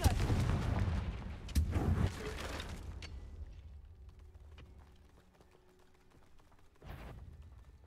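A Confringo spell blast in Hogwarts Legacy: a loud burst of explosive crackling and rumbling that fades into a quiet tail, followed by a smaller thud near the end.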